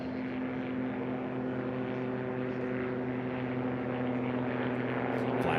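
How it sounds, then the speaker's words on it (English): A STOL aircraft flies at the Reno National Championship Air Races during a short-takeoff-and-landing drag race, its propeller engine a steady, loud drone that holds level throughout with no talk. "most of these aircraft, of course, are flown here to the Reno National Championship Air Races from all over the West."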